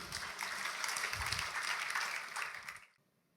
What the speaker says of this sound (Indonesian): Oke, tepuk tangan saudara.